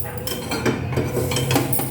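A pan and a pressure cooker set down on a gas stove, metal pots clanking and scraping against the burner grate in quick irregular knocks, close and fairly loud, no one talking.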